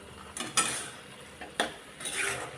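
Dill greens with green chilies and coarsely crushed peanuts are stirred in a pan, producing a few close scraping sweeps and metallic clinks spaced apart, with a soft background hiss.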